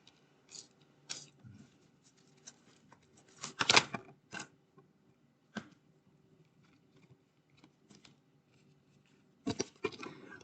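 Tarot cards being shuffled, coming as scattered soft riffling bursts and taps with quiet gaps between, close and fairly faint.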